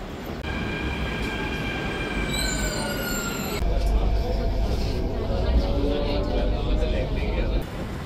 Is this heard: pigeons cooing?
no